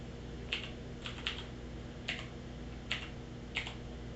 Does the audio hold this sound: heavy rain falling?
no